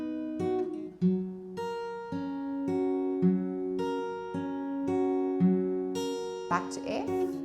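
Acoustic guitar plays a line of a song, evenly strummed chords in steady rhythm, clear and close, with a brief noisy scrape near the end.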